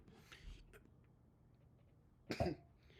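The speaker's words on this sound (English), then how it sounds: "I had a cough and burp at the same exact time." A single sharp cough bursts out near the end, loud and close, after a few softer throat noises in an otherwise quiet room.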